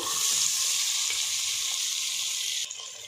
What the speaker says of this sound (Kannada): ಇದು ಸ್ವಲ್ಪ ಕೆಂಪಗಾಗೋವರೆಗೂ ಚೆನ್ನಾಗಿ ಫ್ರೈ ಮಾಡ್ಕೋಬೇಕು